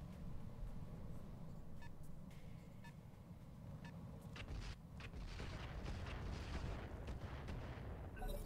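Missile or mortar fire from a mech in BattleTech with the RogueTech overhaul mod: a steady, dense rumbling barrage with sharp crackling bursts and beeping weapon tones layered over continuous low booms.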